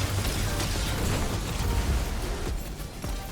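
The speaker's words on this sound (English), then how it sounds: "The fourth one is an explosion. Constant explosions." Continuous rumbling bursts of explosions from a lightsaber combo in Destiny 2, dense and loud throughout with overlapping booms and no clear gaps.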